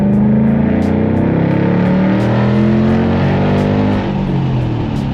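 Mach 1 Mustang with an H-pipe and factory active quad-tip catback exhaust, a loud, deep V8 rumble heard steadily from inside the car as it pulls and shifts pitch, with no talk.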